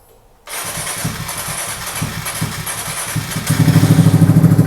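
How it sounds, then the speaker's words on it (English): A Kawasaki Z125 motorcycle is cold-started: a moment of quiet, then the engine catches abruptly and settles into a loud, close, steady idle that grows heavier and more throbbing near the end. "Let's say I want to take the bike for a ride here. So we crank it up."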